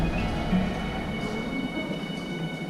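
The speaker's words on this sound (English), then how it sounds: "Come on a steam train through the Irwell Valley." A steam train runs through the Irwell Valley on the Bury line, heard as a steady rumble of wheels and carriages with a faint high whine.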